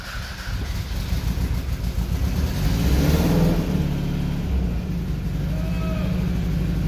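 A 1999 Toyota Camry LE engine with a re-welded piston catches and keeps running, a loud, close, rough drone that swells in the middle and then holds steady, with no voices over it.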